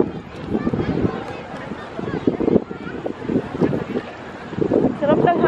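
Gusty wind buffets the microphone in rumbling waves while a person talks nearby.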